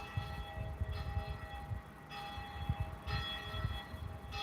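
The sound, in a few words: Catholic church bell ringing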